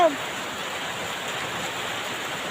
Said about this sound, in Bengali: এই যে দেখেন কি স্মল ভাবে বৃষ্টি হচ্ছে।